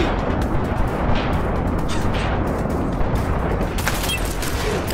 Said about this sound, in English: Can stop shooting, now they dead.